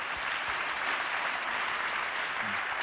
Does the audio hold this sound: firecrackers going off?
no